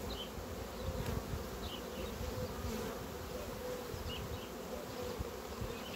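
A honey bee colony hums continuously at an open hive, a dense steady buzz with individual bees passing close by, and no voices.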